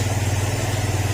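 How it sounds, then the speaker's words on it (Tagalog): A Kawasaki Barako 175 motorcycle engine runs while warming up, a close, loud idle with a fast, even pulsing throb. "Yan mga sir, maandar na siya. Pinapainit na lang."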